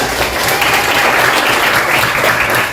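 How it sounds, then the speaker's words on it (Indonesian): Classroom of students applauding together for a religious education lesson at an Indonesian school, a dense, steady burst of clapping that fills the whole moment at even loudness with no talking over it. "Bagus, tepuk tangan dulu semuanya."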